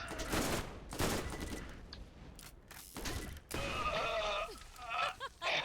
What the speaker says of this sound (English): I'll stop and kill bandits since they obviously can continue to shoot me from a distance